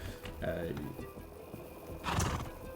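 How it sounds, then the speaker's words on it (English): A horse in the Rust video game gives a loud neigh, followed by a second whinny-like burst near the end, with other game sounds in the background. "You know, horses are great."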